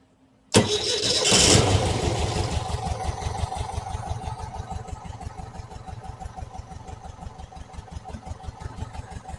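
A warm 1968 VW Type 3 engine with original fuel injection cranks and catches at once, then settles into a steady, rapid, throbbing idle heard up close without talk.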